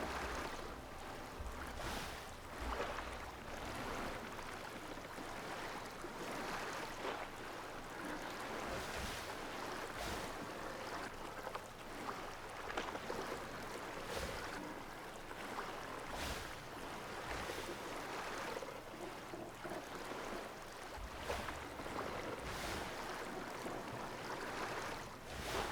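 A sailing boat in the Survival: Fountain of Youth game moves through steady wind and surf, with waves washing and slapping continuously around the hull; no one talks.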